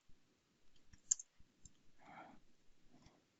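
Computer mouse clicking, several faint, sharp isolated clicks spaced irregularly in a quiet room, with soft rustling movement between them and no talk.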